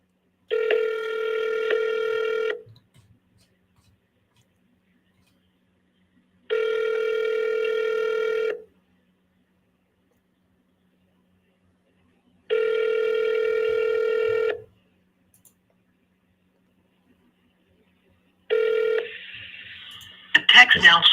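A cold call over a phone line: three long, regular ringback tones spaced several seconds apart, followed by a shorter tone and then a recorded voice message, clear and alone with no live talk.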